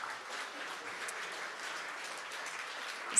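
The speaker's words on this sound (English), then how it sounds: "Round of applause," Soft, steady audience applause at a startup pitch demo day, fairly distant and even in level, with a small bump in loudness at the very end.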